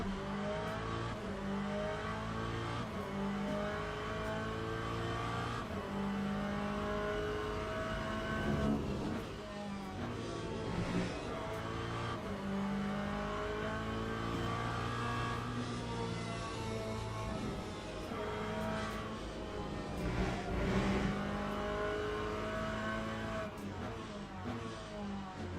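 A race car in the Le Mans Ultimate sim strains at high revs around Fuji, its engine note droning steadily with harmonic whine, rising and dipping through gear changes over a sustained stretch, close and continuous with no talk.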